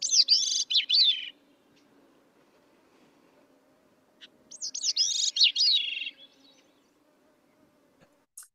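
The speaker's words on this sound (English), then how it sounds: "a really beautiful thrush song, but definitely a different kind of tone than hermit and Swainson's thrush" Recorded thrush song in two phrases, each a clear, high, fluty run of rising and falling notes lasting about a second or two, separated by a quiet pause over a faint low background hum.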